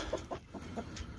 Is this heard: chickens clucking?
yes